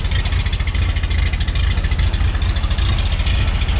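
An old bus engine with a cut and re-angled muffler runs loud and close, a rough throbbing idle with rhythmic pulses and slight revving throughout, no voices.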